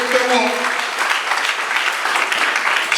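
Congregation applause at a French-language church service, steady broadband clapping filling the space, moderately loud, with a faint voice at the start.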